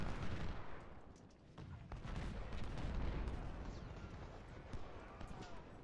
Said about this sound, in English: Now taking some artillery fire to the rear